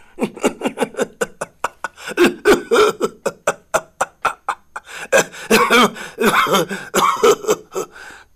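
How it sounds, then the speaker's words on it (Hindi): A man coughs repeatedly in a rapid series of harsh, close hacking bursts, followed by heavier, wetter coughing fits near the end. "कहते कहते वो खांसने लगा"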